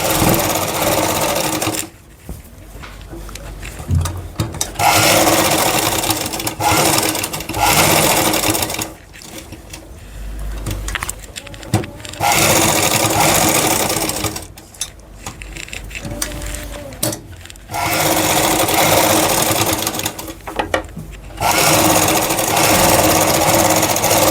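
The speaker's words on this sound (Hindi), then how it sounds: "कॉर्नर पर फिर हम एक सिलाई लगाएंगे ताकि हम इसके कॉर्नर को फाइनल कर दें।" Sewing machine stitching the corner of a garment neckline, loud close rapid mechanical whirring in long runs broken by brief pauses, without talk.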